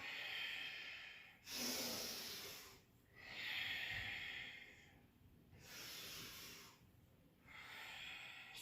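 Heavy breathing while catching breath after vinyasa yoga flow: four long, airy breaths alternating in and out with short pauses, close and steady, gradually settling.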